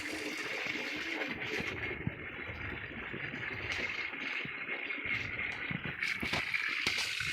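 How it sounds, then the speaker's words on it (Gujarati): Water leaks and flows steadily into a partly emptied farm well, a low continuous gurgling rush with faint splashes, fairly quiet and heard alone. "અહીં પાણી જાય છે, અહીં લીકી છે અને પાણી જાય છે અહીંયા."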